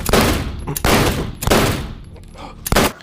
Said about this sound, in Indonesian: peluru-peluru itu pun menghujam tubuh Michael berkali-kali